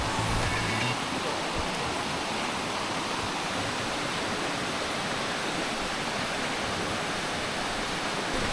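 A summer waterfall at Towangseong Falls in Seoraksan roars as steady broadband rushing water, loud and continuous with no breaks.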